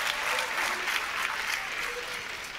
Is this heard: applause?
yes